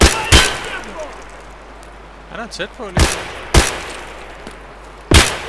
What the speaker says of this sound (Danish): Jeg bliver skudt på